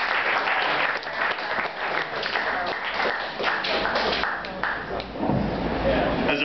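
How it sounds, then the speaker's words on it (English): Audience applause at a comedy show as a comedian takes the stage, a dense steady wash of clapping running throughout with cheers mixed in. "Please give a warm round of applause to your next performer."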